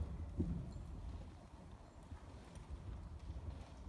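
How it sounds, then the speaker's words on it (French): A horse gallops during a riding lesson, its muffled hoofbeats thudding in a steady rolling rhythm at moderate distance, with faint wind noise and no talk. "continue à galoper"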